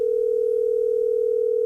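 A steady electronic telephone tone sounds loud and unbroken, a single pure held note with a faint buzz beneath it, no voices.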